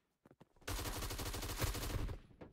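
Gunfire in the video game BRM5, a rapid burst of automatic shots rattling for about two seconds after a few brief clicks, loud and close.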